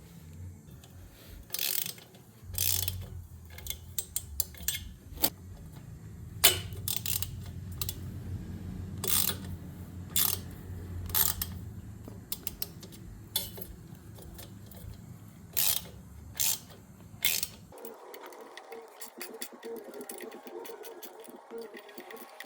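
A hand ratchet tightens exhaust nuts onto the studs of a Honda ATC70, with repeated bursts of quick clicking separated by pauses, close and fairly quiet, ending in a brief hum.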